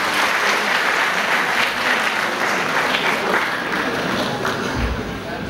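An audience at a school welcome program at St. Xavier's applauds a poet coming on stage, a dense, loud, steady wash of clapping from many hands that fades slightly near the end.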